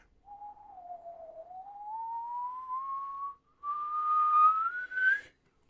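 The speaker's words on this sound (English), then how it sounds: "When we're whistling low," A single person whistles a long, steady low tone that glides slowly upward, breaks briefly, then resumes higher and ends with a short rise, clear and alone with no talking.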